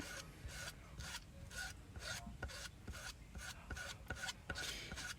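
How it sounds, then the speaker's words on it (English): A squeegee is dragged lightly back and forth over a craft surface in quick, regular scraping strokes, about two per second, faint and close with nothing else heard. "I'm going to take my squeegee and I'm just going to lightly go back over that."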